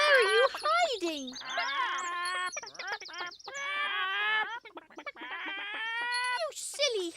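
Cartoon hens cluck and squawk in a busy, overlapping chorus, with rapid rising and falling calls close up throughout and a voice speaking among them.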